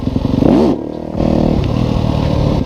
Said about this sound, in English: Pull the clutch in, give it gas, drop the clutch right away.